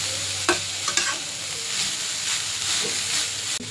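Grated Delhi carrots frying for halwa as a spoon stirs them, a loud, dense sizzle with several scraping strokes, near and without talk.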